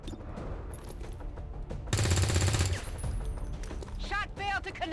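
Gunfire in the video game XCOM 2, with a dense rapid burst of automatic shots lasting about a second, loud against quieter game sounds and voices before and after.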